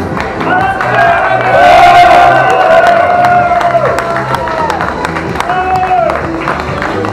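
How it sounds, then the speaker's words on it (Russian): A boxing audience cheers and whoops loudly for two fighters after their bout, a dense roar of voices with scattered clapping, sustained and close throughout. "Ребята, заслуживают ваших аплодисментов."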